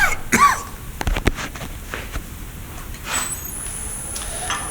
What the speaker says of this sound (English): Excuse me a sec while I just have a clear my throat.